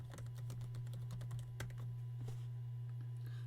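Quick, light keystrokes on a computer keyboard, typed in a short irregular burst at close range over a steady low electrical hum.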